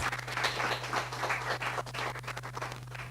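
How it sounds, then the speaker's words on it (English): A round of applause from an audience during a live-streamed business talk, a short burst of dense clapping with a steady low hum beneath it. "I think that deserves a round of applause"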